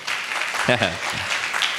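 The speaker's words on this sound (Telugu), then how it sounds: "చప్పట్లు కొట్టొచ్చు మీరు ఇప్పుడు" Audience clapping at a Telugu Christian sermon makes a steady wash of applause, with a voice speaking briefly over it.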